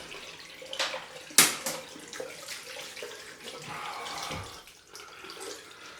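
Cold tap water runs into a sink during a head shave, a gurgling, splashing flow with a sharp clatter near the start and shifting intensity as hands move under the stream.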